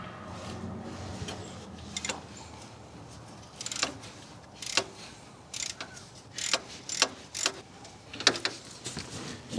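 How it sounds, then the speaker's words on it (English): A 7mm socket on a 1/4 inch socket wrench ratchets while backing out a rod during alternator removal on a first-generation Honda CR-V, producing quick clicking bursts that grow busier and more rhythmic toward the end over low shop noise. "I back out the rod with a 7 millimeter socket on a 1/4 inch socket wrench"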